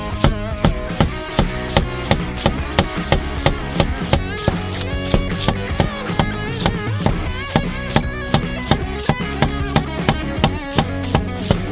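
Peeled potatoes are sliced with a knife on a cutting board, giving a steady run of crisp, close chopping taps in an even, quick rhythm that carries on throughout.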